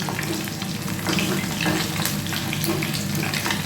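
Chicken pieces frying in hot oil for chili chicken, a close, steady crackling sizzle with no voices.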